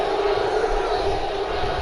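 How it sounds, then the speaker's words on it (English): Crowd in an arena chanting for a fighter at a UFC event in Chicago within the UFC 2 video game, a steady dense roar of many voices with no break, loud and continuous throughout. "Crowd still chanting DC."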